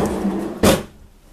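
Kitchen drawer in a 2020 Keystone Retreat 39FDEN travel trailer opening with a single short, sharp slide-and-thump midway, followed by quiet room tone.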